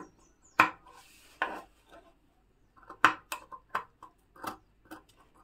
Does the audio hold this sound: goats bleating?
no